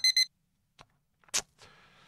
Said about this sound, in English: Okay, so the timer went off